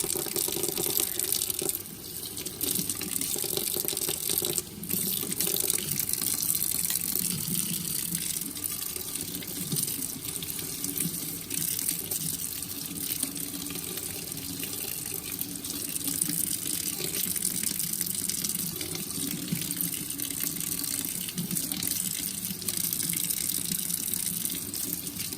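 Makeup brushes being rinsed under a running tap, a steady continuous gush of water splashing into a sink throughout, fairly loud and close with no talking.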